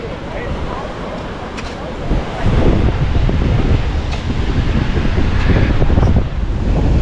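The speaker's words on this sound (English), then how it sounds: "So you go take a peek at the beach." Wind and surf at Pacific Beach in San Diego make a loud, constant roar, with deep wind buffeting the microphone and the wash of breaking waves swelling partway through.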